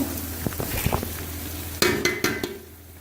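Tomatoes and spices fry in a pot for biryani, a low sizzle under repeated metal spoon clanks and scrapes against the pot, several sharp knocks clustered near the end before the frying quiets.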